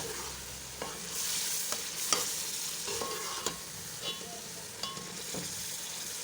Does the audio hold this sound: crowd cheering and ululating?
no